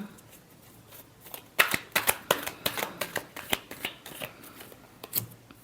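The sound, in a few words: shuffling tarot cards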